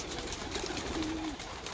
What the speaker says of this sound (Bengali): দেখুন কত পায়রা এখানে